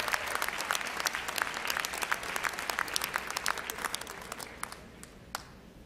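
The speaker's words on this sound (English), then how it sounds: "The Marching 100, give them a round of applause." A large convocation audience applauds the Marching 100 band, a dense, steady wash of clapping that gradually thins and fades toward the end.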